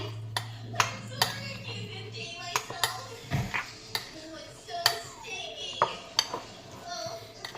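A spoon stirs a tofu, beetroot and curd mixture in a bowl, giving a series of irregular clinks and scrapes against the dish, with faint voices in the background.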